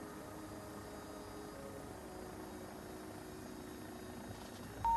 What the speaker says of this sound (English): Switch on engine 2.